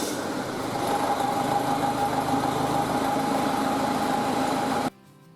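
A Peugeot 2.0 HDI diesel engine runs steadily on a test rig, a constant close droning hum with a faint whine, then cuts off abruptly near the end.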